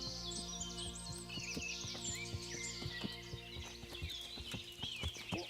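Horse hooves clip-clopping in the medieval video game Kingdom Come Deliverance, a soft, steady walking rhythm of hoof falls under chirping birdsong and low ambience.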